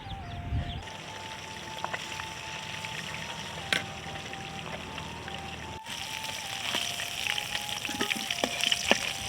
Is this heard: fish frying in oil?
yes